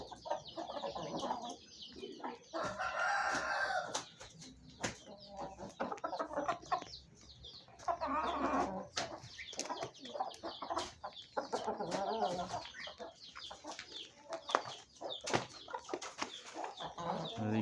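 An Aseel rooster clucks and calls repeatedly at close range, in bursts separated by short pauses, with other fowl noises and faint rustling between.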